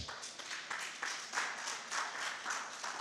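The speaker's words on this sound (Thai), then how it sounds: "ปรบมือให้กับพระเจ้าของเราด้วยกัน" A church congregation claps together in praise during a sermon, a moderately faint, sustained wash of applause with soft rhythmic swells.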